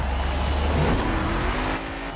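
A car engine in the racing video game Forza Horizon 4 revs loudly and steadily, its pitch rising slightly near the end, with broadband road and tire noise throughout. No one speaks.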